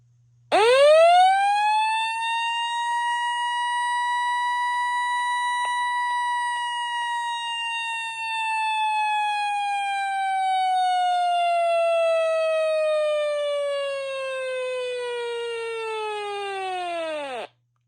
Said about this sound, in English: We're going to demonstrate the siren.